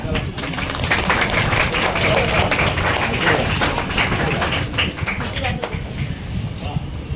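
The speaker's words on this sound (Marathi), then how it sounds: "टाळ्या" Sustained clapping from a crowd at an engagement ring ceremony, steady and fairly loud throughout, fading slightly toward the end.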